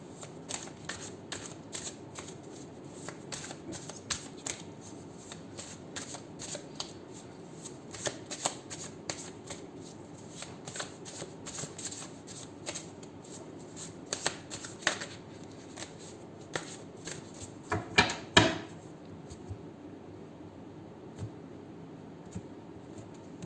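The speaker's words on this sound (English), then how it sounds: "shuffle the cards." A deck of cards is shuffled again and again, rapid riffling bursts with short pauses between them, close and fairly quiet, with no talking.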